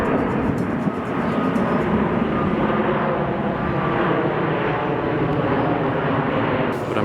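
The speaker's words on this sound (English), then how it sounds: "Airplanes always fly over the zoo here." A plane flying over the Calgary Zoo gives a steady, broad engine roar that holds loud and even throughout, with no talk.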